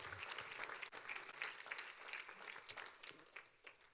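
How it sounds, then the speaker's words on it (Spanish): A standing church congregation at a bilingual Spanish-English service claps together in praise, a fairly soft but steady wash of many hands with a few sharper claps standing out. "Un aplauso para el Señor."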